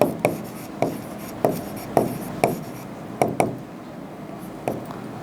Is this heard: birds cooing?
no